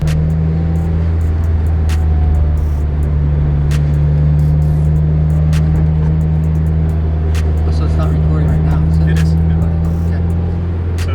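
Subaru WRX fitted with Diode Dynamics SS3 fog lights driving, a steady low engine and road drone held close and constant throughout, with no clear passes or revving.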